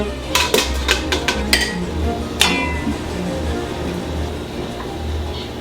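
Cooked beets lifted out of cold water with a spider skimmer and set on a plate, heard as a quick run of light metallic clinks and taps followed by one sharper knock, over quiet kitchen background.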